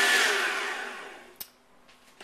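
An electric mixer beats cheesecake bar batter in a bowl, a steady whirring hum that is loud at first and gradually fades, followed by a couple of brief clicks near the end.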